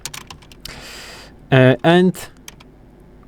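Quick bursts of clicking keystrokes on a computer keyboard, light and close, tapping in short runs before and after a voice briefly speaks.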